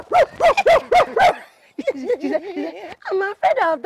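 Dog barks come in a quick run of four or five loud, close yaps, followed by a person speaking with a lively, singsong voice that may be imitating whimpers or barks.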